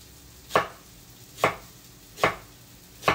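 A kitchen knife chops through vegetables on a cutting board, cutting off tips and slicing rings, with four crisp, evenly spaced chops close by and no talking.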